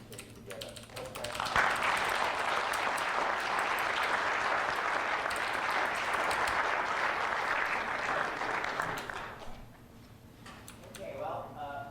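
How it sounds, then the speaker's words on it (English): An audience applauding after a lecture, a full round of clapping that swells quickly, holds steady for several seconds, then tapers off, with a speaking voice before and after. "I also think we should give a round of applause to Martin Courier"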